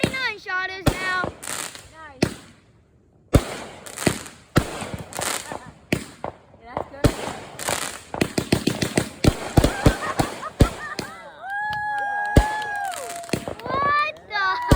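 A 49-shot firework cake going off: rapid irregular volleys of loud nearby bangs and crackles, with whistling rising tones near the end, while children and adults exclaim over the blasts.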